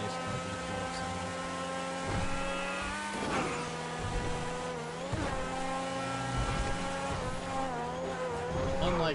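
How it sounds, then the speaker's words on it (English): A V12 race car engine in GTA Online holds a loud, steady harmonic drone, with the pitch rising and dipping through several rev changes and no other sounds. "it's not bad that they tried to kind of go for that race car V12 sound"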